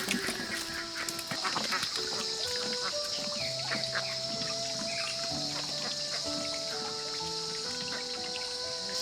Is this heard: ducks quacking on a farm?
yes